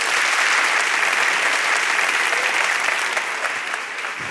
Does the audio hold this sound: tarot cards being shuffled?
no